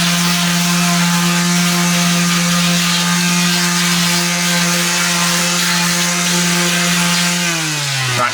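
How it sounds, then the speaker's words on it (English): Power sander working a wooden corner during a campervan build, a loud steady whine held close and unbroken, dropping in pitch as it winds down near the end. "Let me just do a bit of sanding on this corner."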